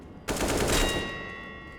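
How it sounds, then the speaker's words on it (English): Burst of rapid gunfire from a PC video game, a loud continuous rattling volley lasting over a second before cutting off, with no talking over it. "Alright, I can stop and then shoot."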